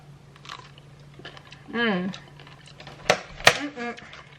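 Large crunchy snacks are bitten and chewed in a few sharp crisp crunches around the middle and end, with a brief voiced sound between them, nearby and moderately loud.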